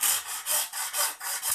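A hand saw cuts through a coconut shell for a craft piece, steady rhythmic back-and-forth rasping strokes, about five or six in quick succession, close and alone.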